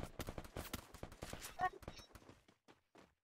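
Rapid bursts of gunfire from the mobile battle game Free Fire crack in quick succession, then thin out into scattered, fainter shots; overall fairly quiet.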